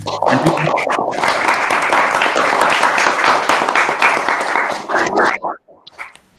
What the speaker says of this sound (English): give a huge round of applause for all the participating universities